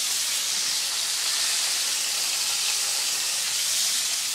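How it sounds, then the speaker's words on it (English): General Tso's chicken frying in a pan gives a steady, even sizzle, loud and close, holding unbroken for a few seconds with no talk. "That's the sizzling."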